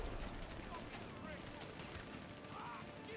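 Gunfire in GTA V while shooting a path through an army of enemies, rolling as a dense, continuous rattle of shots, fairly quiet and muffled, with a voice talking over it.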